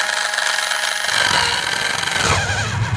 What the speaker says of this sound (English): I wonder if you can do some burnouts in this too.